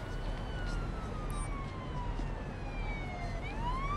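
Wailing ambulance siren in the police video game Police Simulator: Patrol Officers, a steady rising-and-falling tone held over a continuous engine and street rumble for the whole stretch, fairly loud with no talk.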